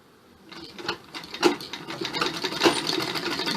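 A sewing machine stitches along the edge of a frock seam, starting from quiet into a fast run of rapid needle clatter that keeps going steadily at close range.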